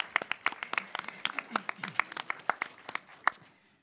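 A small audience at an industry conference claps sparsely for a few seconds, individual claps distinct rather than a dense roar, fading out toward the end with faint voices underneath.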